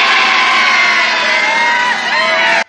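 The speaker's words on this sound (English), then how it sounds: "Yep, lots of cheering and stuff." A large crowd cheering in the Pleasure Dome arena in the 1988 movie Droid, a loud continuous roar of many voices with whoops, cut off abruptly at the end.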